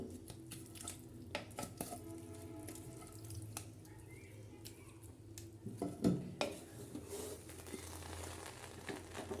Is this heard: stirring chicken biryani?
yes